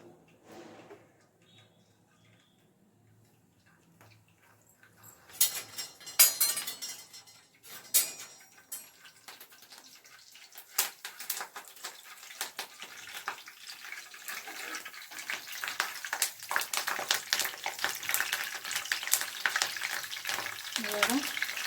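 Curry leaves and mushroom pepper chakna ingredients crackle and sizzle in hot oil, starting quiet and building into a steady, loud, dense frying hiss with sharp pops and occasional stirring clinks.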